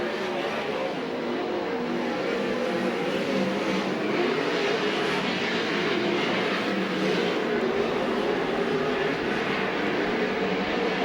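USAC/CRA sprint cars race around a track at Alger, Washington, a continuous loud roar of high-revving engines sustained throughout at moderate distance, with no distinct pauses.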